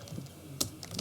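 A short burst of computer keyboard typing while writing PHP code, soft quick taps with one crisp louder keystroke in the middle, close and isolated.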